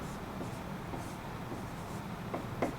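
A fraction is written by hand, with soft, quiet scratching strokes across the page in short bursts, close and alone without talk.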